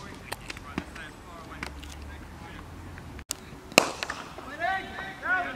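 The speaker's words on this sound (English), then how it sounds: "Lovely shot from Josh for one." A cricket bat strikes the ball in a league match with one sharp, crisp knock standing out amid outdoor ambience, followed by a live commentator and crowd voices.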